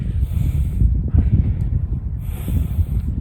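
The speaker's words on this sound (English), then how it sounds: "Bracing wind up here." Strong wind buffets the open hilltop of Worcestershire Beacon in the Malverns, a steady low roar of gusts rumbling against the microphone throughout, with brief airy swells, close and loud, and no talking.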